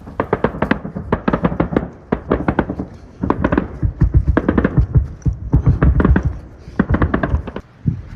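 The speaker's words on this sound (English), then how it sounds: "Now and then, they shoot each other." Gunfire exchanged across front-line trenches in Ukraine, heard as bursts of sharp rapid cracks and pops clustered in volleys with brief pauses, fairly close and loud.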